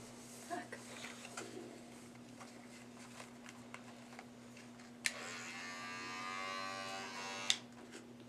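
An electric toothbrush buzzes for about two seconds, quiet but close, with sharp clicks as it switches on and off and faint handling noise before it starts.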